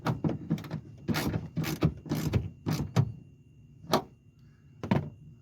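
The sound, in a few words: ratchet snugging down bolts on a car trim piece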